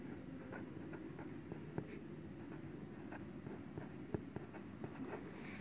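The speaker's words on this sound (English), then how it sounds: "we're going to write that here" A pen or pencil writes on paper while numbers are noted down during a maths lesson on real numbers, giving faint steady scratching with a few light taps over a low background hum.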